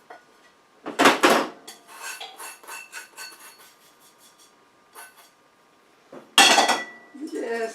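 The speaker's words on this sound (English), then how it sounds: "I'm going to whisk together my dry ingredients." Sugar, flour, salt and baking soda whisked together in a bowl for a small Texas sheet cake, with bursts of metal tines clinking and scraping against the bowl, then a pause and another louder round of brisk whisking.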